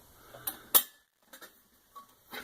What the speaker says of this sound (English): This is a Stanley pot with a vented lid.